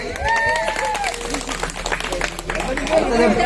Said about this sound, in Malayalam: വത്സാന്റിക്ക് ഒരു നല്ല കൈയടി.